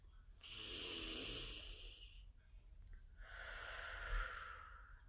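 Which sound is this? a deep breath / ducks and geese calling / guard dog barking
a deep breath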